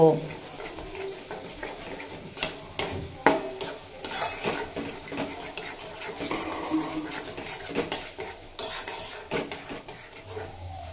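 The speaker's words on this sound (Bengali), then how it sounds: "আলুর সাথে তিল পোস্ত খুব ভালোভাবে কষিয়ে নিয়েছি।" Potatoes are sautéed with sesame and poppy seed paste in a pan, with irregular spatula scrapes and metal clinks over a faint sizzle, close and busy throughout.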